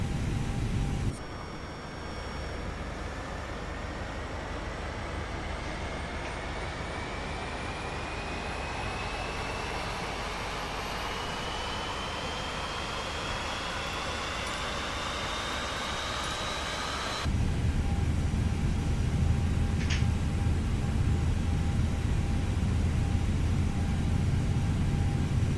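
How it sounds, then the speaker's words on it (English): An Airbus A320neo engine spooling up in Microsoft Flight Simulator 2020, a continuous roar with a slowly rising whine that climbs for many seconds before the sound shifts to a louder, steadier rumble. "Engine Master 2 started."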